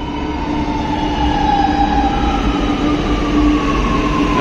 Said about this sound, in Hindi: एक मिनट में मेट्रो आके पहुंच रहा